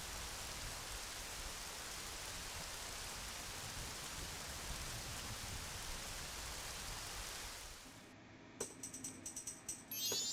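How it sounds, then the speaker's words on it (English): Steady rain hiss from the Majora's Mask video game fills about eight seconds alone, fairly soft, then fades into faint clicking game tones. "aside from rain, there's just no sound until we see the Skull Kid"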